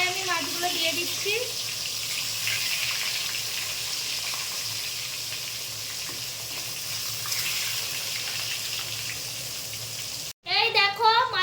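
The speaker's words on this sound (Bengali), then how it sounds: "কড়াই আমি মাছগুলো দিয়ে দিচ্ছি।" Pieces of rohu fish fry in white oil in a kadai, giving a continuous soft, watery sizzle throughout; a voice talks briefly near the start and again at the very end.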